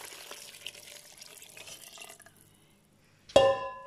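Water poured into a cooking pot while making cocido: a low trickle fades to near silence, then a sudden loud splash and gush near the end.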